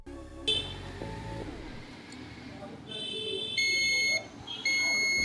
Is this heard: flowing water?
no